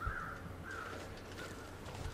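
Crows cawing in The Long Dark survival game, several harsh caws in a loose series over a steady low ambient wind.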